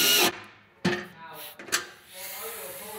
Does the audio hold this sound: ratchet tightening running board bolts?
yes